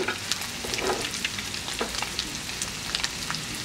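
Corn, green beans and other vegetables sizzle and crackle steadily in a hot pan while cooking for Christmas rice, a close, even frying hiss with scattered pops and no talking.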